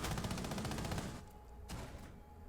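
Rapid automatic gunfire from Rainbow Six Siege on the Border map, a dense loud burst of shots for about a second, then a lone shot and quieter echoing game sound.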